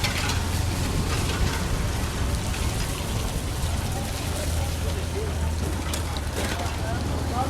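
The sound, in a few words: rain falling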